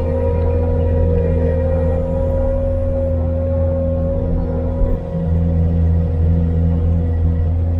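A new pay-loader drives down a road between fields, giving a steady, close diesel drone with a deep low rumble and a constant hum, unbroken throughout.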